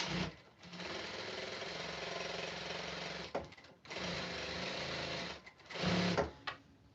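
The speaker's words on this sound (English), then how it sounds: "it's got an automatic foot lift when I put my heel down on the pedal, and then it's got an automatic stitch" An embroidery sewing machine with an automatic foot lift runs close and loud, a steady mechanical stitching whir that breaks off briefly twice before resuming, with no talking over it.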